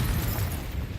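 A deep, booming burst from a Confringo fire spell explodes in the Hogwarts Legacy video game, a single dense blast lasting about a second.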